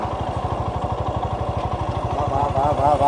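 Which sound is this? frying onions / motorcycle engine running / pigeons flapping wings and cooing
motorcycle engine running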